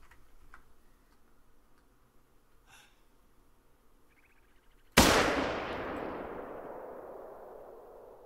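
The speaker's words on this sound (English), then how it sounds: "we'll take a shot with the 270" A single loud .270 rifle shot rings out in theHunter: Call of the Wild, a sharp broadband crack whose echo decays over several seconds across an open hunting landscape, after a quiet stretch of faint ambient ticks and birdlike chirps.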